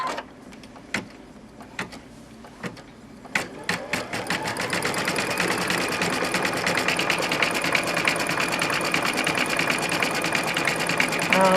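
Baby Lock Elissimo sewing machine starting with a few separate clicks and knocks, then settling into a steady fast rhythmic stitching chatter close by that carries on to the end.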